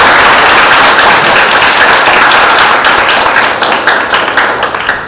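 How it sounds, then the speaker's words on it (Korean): A university team presentation audience gives encouraging applause, loud and close, with dense overlapping claps that thin out toward the end. "힐링미터 팀의 발표에 격려의 박수 부탁드리겠습니다."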